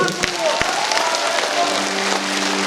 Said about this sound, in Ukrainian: Тому ваші оплески, друзі.